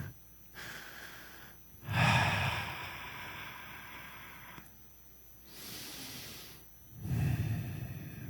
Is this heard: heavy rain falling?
no